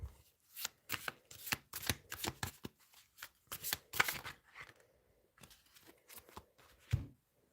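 Tarot cards are shuffled and drawn, making quiet, close riffling and slapping bursts in an irregular rhythm with brief pauses between them.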